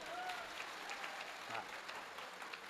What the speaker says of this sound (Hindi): तालियां बजे तो इतनी जमके कि कवियों को जोश आ जाए